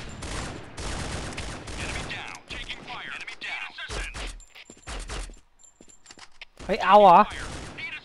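Game gunfire from Point Blank Strike: several bursts of rapid, sharp shots, with a loud volley near the end, while a player talks over the action.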